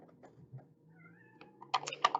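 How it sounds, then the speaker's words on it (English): A house cat throwing a fit somewhere in the house, with a few soft sounds first and then a burst of loud, strained meows and yowls near the end, fairly close and with no talk over it. "And one of my cats down there throwing a fit."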